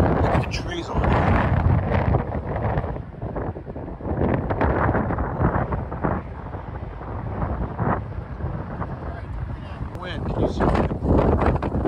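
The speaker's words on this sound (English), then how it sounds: "It's getting really windy." Strong wind buffets the microphone in loud, continuous gusts, with a voice talking intermittently underneath.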